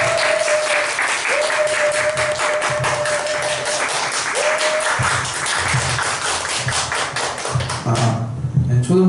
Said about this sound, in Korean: 자, 박수로 환영할게요.